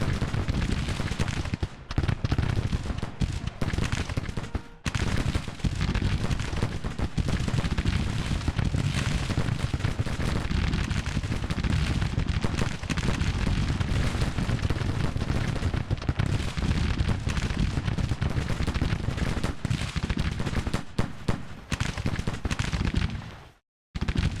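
Sustained volleys of troop gunfire and artillery rumble in Grand Tactician, a dense, steady roar of musketry lasting over twenty seconds with brief dips before cutting out at the end.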